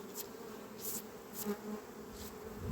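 Bees buzz in a beehive on a hot day, a steady close drone of many wings with a few louder swells passing near, and no voices.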